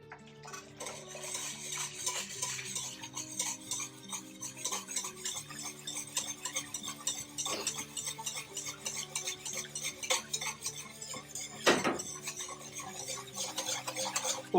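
A spoon stirs agar-based seafood terrine mixture in a bowl, with a steady run of light clinks and scrapes against the bowl for about fifteen seconds and no talking.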